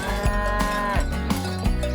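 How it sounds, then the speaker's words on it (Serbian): A cow moos loudly in a few long, drawn-out calls with short breaks between them, close by and with no one talking. "Čik pogodi, to je krava."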